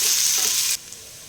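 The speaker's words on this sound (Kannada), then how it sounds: "ಇದೆಲ್ಲ ಚೆನ್ನಾಗಿ ಆಯಿಲಲ್ಲಿ ಈಗ ಫ್ರೈ ಮಾಡ್ಕೊಳ್ಳೋಣ ಕೆಂಪುಗಾಗೋವರೆಗೆ." Chopped onions frying in hot oil for paneer pepper fry, a loud steady sizzle that cuts off abruptly partway through, leaving near silence.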